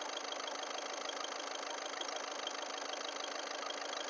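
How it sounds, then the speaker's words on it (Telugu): A 2017 Volkswagen Ameo 1.5 TDI diesel car idles in a steady, even hum that stays quiet and constant throughout, with no talking. "ఇంజిన్ అయితే స్టార్ట్ చేయడం జరిగింది"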